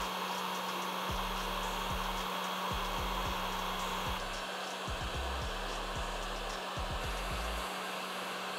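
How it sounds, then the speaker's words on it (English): A heat gun blows a steady, loud whoosh of hot air while shrinking heat shrink tubing over motorcycle wire connectors on an RM250 rebuild, with a low hum and intermittent low thumps beneath. "So I'm just gonna slide some heat shrink over each one of these connectors."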